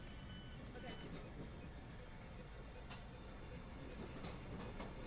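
A distant rumble of a passenger train at a station platform, with intermittent beeps and faint voices in the background.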